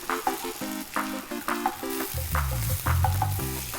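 Soya shami kebabs fry in a hot pan, a loud close sizzle punctuated by spatula scrapes and taps as they are turned, swelling into a fuller hiss midway.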